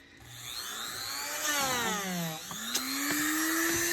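A Dremel rotary tool whines during silversmithing work on a moss agate ring, its pitch sliding down under load and then rising again as it spins back up, steady and close.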